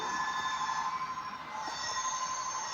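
An HO scale model freight train rolls along its track with a steady metallic hum and faint whine, running continuously without talk.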